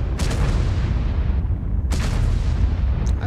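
Tank cannon shots in a tank battle video game boom loudly, two heavy blasts about two seconds apart, each trailing into a rumbling background of engine and battlefield noise.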